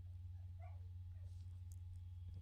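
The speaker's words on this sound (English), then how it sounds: "The dog is crying." A dog whimpers and cries in short high whines over a steady low hum, faint and somewhat distant, with no talk.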